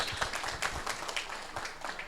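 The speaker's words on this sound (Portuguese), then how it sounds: "vamos dar uma salva de palmas a Jesus?" A church congregation applauds together, a steady, dense wash of clapping throughout with a few louder hand strikes standing out, heard from within a fairly reverberant hall.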